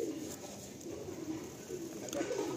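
Pigeons coo softly in a Madrasi pigeon loft, low murmuring calls repeating against quiet background noise.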